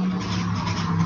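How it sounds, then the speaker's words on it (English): Steady road noise from a busy highway beside a home, a continuous broadband rush of passing vehicles with a low hum, heard close and fairly loud with no talking. "Sorry about the road noise."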